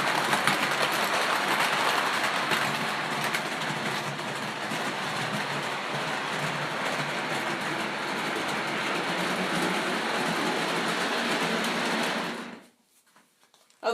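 Freight train on a coal and steel railroad rolling past steadily and loudly, a continuous rumble and clatter of cars that holds for about twelve seconds and then cuts off abruptly.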